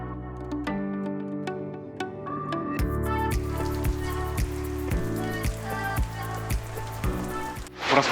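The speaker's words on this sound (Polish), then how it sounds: "Dzisiaj akurat taki dzień, że pada na przemian." Rain falls in the Caribbean at Bayahibe in the Dominican Republic, steady drops and drips pattering on nearby surfaces, with irregular louder plinks and a brief rustle at the end, no speech.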